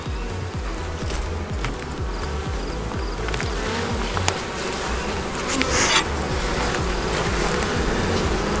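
Angry bees swarm around an open hive as a second brood box is inspected, a dense, loud, continuous buzzing with close individual bees passing and no talk.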